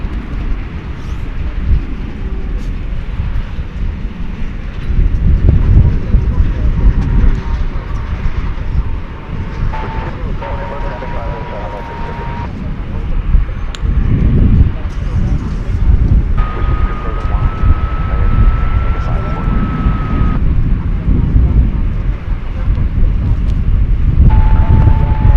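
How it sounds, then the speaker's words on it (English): An American Airlines Airbus A319 passes at DFW Airport, heard as a loud, sustained jet roar mixed with heavy wind buffeting on the microphone throughout, with no voices. "American Flight 765 is what this is. It's an Airbus A319."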